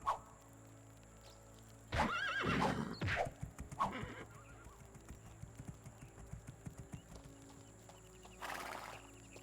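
Horses in a video game neigh loudly up close, with a short whinny near the start and a louder burst about two seconds in, then hooves clip-clop steadily for several seconds before another brief whinny near the end.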